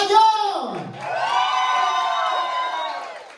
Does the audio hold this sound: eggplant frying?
no